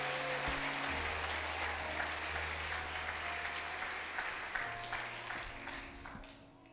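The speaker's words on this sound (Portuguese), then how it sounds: "Aplauda o Senhor Jesus mais uma vez" A church congregation applauds in a steady burst of many hands clapping, with sustained tones from a keyboard or organ humming underneath and fading as the clapping thins out.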